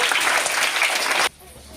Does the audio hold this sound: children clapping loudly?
yes